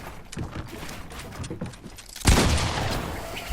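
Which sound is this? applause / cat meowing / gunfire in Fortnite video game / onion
gunfire in Fortnite video game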